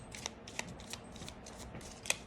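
Tarot cards are shuffled up close, a series of crisp riffling snaps and soft slides in an uneven rhythm, with no talk over them.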